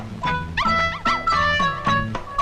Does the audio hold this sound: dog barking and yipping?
yes